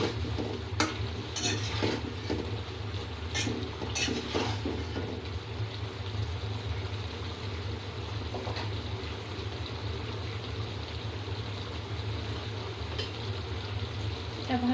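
Spices sautéing in a pan for a rohu fish curry with cauliflower and spiny gourd, steady stirring and scraping over a low sizzle, with a few sharp utensil knocks near the start, close and even throughout.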